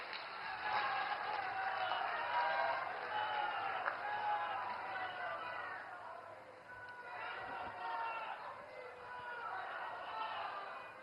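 A large audience at a public event in Varanasi applauds steadily to welcome PM Narendra Modi, the clapping and crowd noise sustained throughout with some cheering mixed in.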